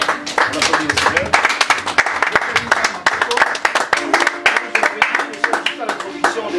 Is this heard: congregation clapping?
yes